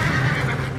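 A black horse neighs in a video game, one loud, close whinny that fills the short moment.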